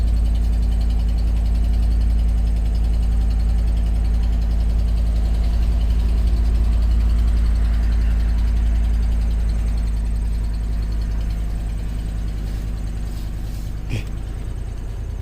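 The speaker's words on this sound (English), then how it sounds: "Oh, and it has a nasty exhaust leak." A 2015 Dodge Ram 1500 Tradesman 4x4 with a 5.7L engine idles steadily with an exhaust leak, a loud continuous low rumble close by, with a brief knock near the end.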